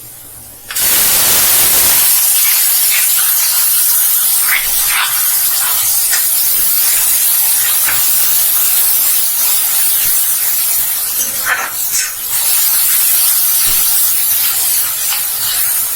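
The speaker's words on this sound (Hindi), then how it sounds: "अब हम इसमें अपनी टमाटर की प्यूरी डालेंगे।" Tomato puree hits hot fried onions in a pan, setting off a loud, steady sizzling hiss that stays constant for most of the clip, with no talking.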